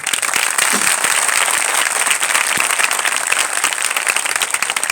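A church congregation at an Odia sermon gathering clapping together, a dense, loud, continuous burst of many hands that runs steadily throughout.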